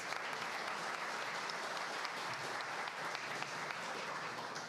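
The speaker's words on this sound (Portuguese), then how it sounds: "Uma salva de palmas para ela, gente." A crowd claps steadily in sustained applause at a seminar, dense and even throughout, heard from some distance.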